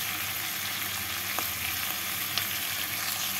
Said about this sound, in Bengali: মাংসটা কষানো হয়ে গেছে।